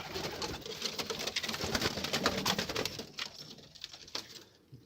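Pigeons, kept and handled by a keeper, coo and rustle steadily in close, busy sound, with soft wing flutters among the calls before the noise thins toward the end.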